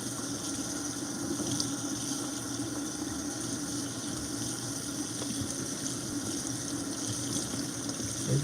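Water runs steadily during a rinse, a constant close hiss and splash with little change throughout and no voices.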